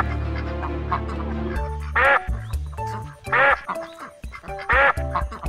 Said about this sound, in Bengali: আরে আজ আবারও হাঁসগুলো ডাকাডাকি করছে কেন?